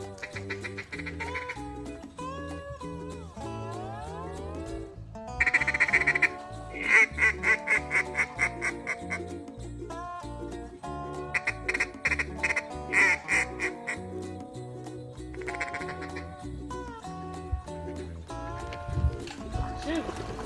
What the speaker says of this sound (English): That's Wiley's duck